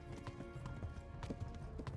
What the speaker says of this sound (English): Run faster, horse.